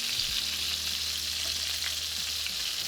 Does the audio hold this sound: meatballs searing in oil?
yes